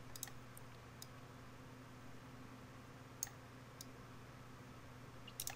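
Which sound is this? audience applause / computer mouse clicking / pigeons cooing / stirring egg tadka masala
computer mouse clicking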